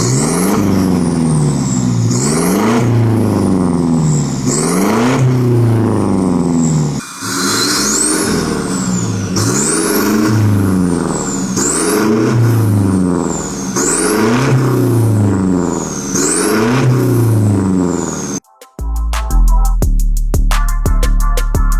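A Toyota Fortuner with a full exhaust, a Borla ATAK muffler and dual Borla tips is revved hard about eight times in a row. Each pass is a loud, close rising and falling roar, and a different clatter follows briefly at the end.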